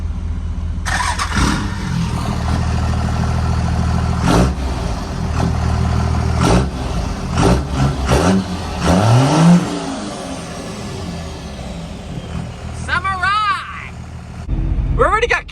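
Trucks rev and pull out one after another at a car meet, with engines roaring, some surging accelerations close by and a loud rev near the end. People talk over the engines.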